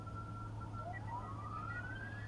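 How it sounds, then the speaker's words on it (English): Emergency sirens wail at midnight outdoors, one steady tone joined by a rising sweep, sounding moderately distant over a constant low rumble with no talk. "Sirens blaring"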